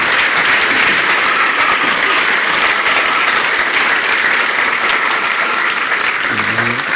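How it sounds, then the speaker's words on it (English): A studio audience at a live coffee-morning show at Heathrow gives a big round of applause, dense steady clapping filling the whole stretch at close range with a faint voice emerging near the end. "Give you a big round of applause."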